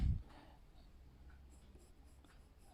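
A freshly sharpened pencil scratches across paper while sketching a caricature, giving a soft, close, continuous scratching with faint rhythmic strokes and no talking.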